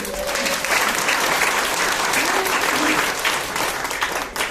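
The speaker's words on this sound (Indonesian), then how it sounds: "Beri tepuk tangan dulu" An audience breaks into sustained applause at an Indonesian sharing session honoring a team leader, dense, steady clapping that fills the whole stretch without letup.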